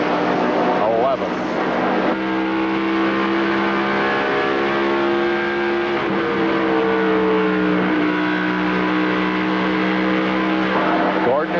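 A 1995 NASCAR Winston Cup car at the Southern 500, with a loud, steady roar of a V8 engine heard onboard, pitch rising and dipping with the throttle, under continuous race commentary.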